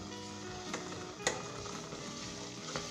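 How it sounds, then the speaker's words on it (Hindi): Fried onions stirred in hot oil for a Kolhapuri beef keema: a constant close sizzle and crackle, with a sharp scrape of the spoon near the middle and lighter stirring knocks around it. "तली हुई प्याज गरम ऑयल के अंदर डालना है, तो आपने इसे फ़ौरन से हिलाना है।"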